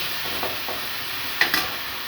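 Red chilli powder and spice masala frying in hot oil for a mushroom curry give a soft, steady sizzle, with a few sharper crackles and stirring scrapes near the end.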